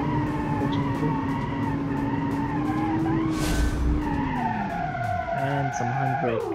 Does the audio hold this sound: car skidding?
yes